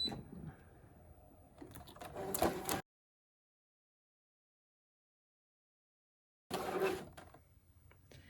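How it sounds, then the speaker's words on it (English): A Brother Scan N Cut machine loads its cutting mat, giving short bursts of close mechanical whirring and clicking separated by a stretch of complete silence. "Now we're gonna load the mat."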